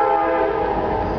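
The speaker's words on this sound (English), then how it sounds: "And the train feels the need to get some input." A train horn sounds loudly and steadily near a town's main street, holding one continuous blast with no talking over it.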